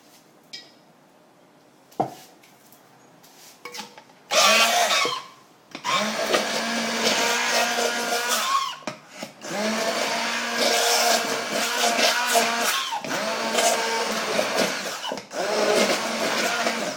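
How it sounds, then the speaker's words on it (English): Strawberries are pureed in a kitchen appliance with a few short taps, then long loud whirring runs with brief pauses as the blades spin. "what I'm going to do now is I'm going to puree it."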